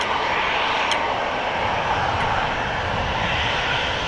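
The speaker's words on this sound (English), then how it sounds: "It's a Dreamliner coming this way by the looks of it." A Boeing 787 Dreamliner taxis at Amsterdam Schiphol airport, its engines giving a steady, moderately loud whine and rumble with no voices.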